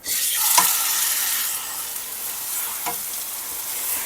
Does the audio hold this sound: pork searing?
yes